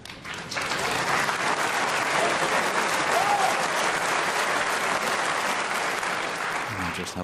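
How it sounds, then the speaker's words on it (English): Sustained applause from the snooker crowd at the Crucible, 1994 final frame of Hendry v Jimmy White, rising quickly and holding steady and loud throughout, with a voice briefly audible near the start. "Have a feeling the crowd are going to clap every shot."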